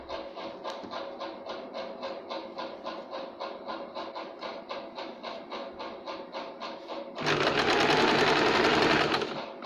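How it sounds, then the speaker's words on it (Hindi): A sewing machine stitches around the curved katori cup section of a blouse lining, running in a steady rapid rhythm close by, then speeding into a louder, denser whir for the final couple of seconds. "इस तरह से इसको गोलाई में से सिलाई देंगे"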